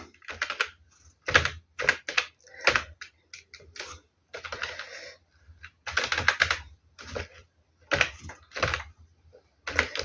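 Computer keyboard typing while laying out a newspaper front page in Photoshop: irregular bursts of quick, close keystrokes separated by short pauses, with no talking.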